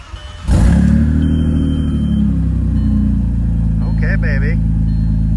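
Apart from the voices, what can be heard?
Audi C5 allroad engine starting and revving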